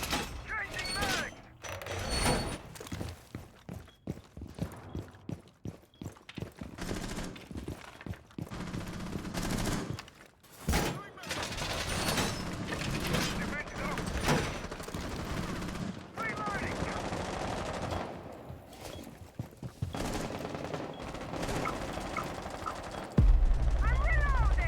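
Rainbow Six Siege gameplay with repeated bursts of automatic gunfire and scattered single shots, a magazine change clicking between them, continuous loud action throughout and a heavy thump near the end.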